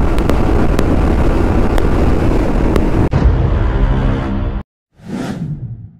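Yamaha MT-15 V2 BS6 motorcycle at maximum RPM, a loud continuous engine roar under heavy wind rush that cuts off abruptly, followed by a short swelling whoosh.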